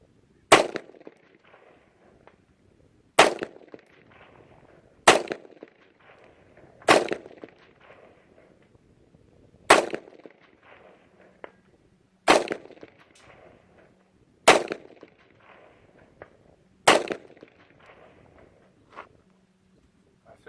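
Gunfire from a magazine of rounds in a shooting competition: eight sharp, loud shots spaced roughly two seconds apart, each with a short echoing tail, and a few faint thuds between them.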